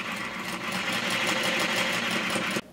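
Sewing machine stitching a fabric dart along a seam guide, a steady, close, rapid mechanical whirring that runs evenly and then stops abruptly.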